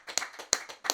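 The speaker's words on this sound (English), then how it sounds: "Everybody clap in the room." A small group claps in a room during a casual podcast recording, three quick bursts of hand claps, fairly faint and close together.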